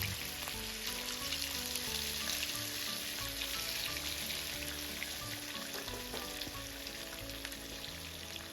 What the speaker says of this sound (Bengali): তেল গরম হয়ে গেলে তার মধ্যে খুব আস্তে আস্তে মাছের পিসগুলো ছেড়ে দেবেন এবং সেটিকে ধীরে ধীরে হালকা আঁচে ভেজে নেবেন।